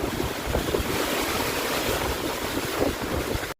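Steady roaring wind and rushing downpour in the Andaman Islands fill the air continuously, loud and close, with no voices.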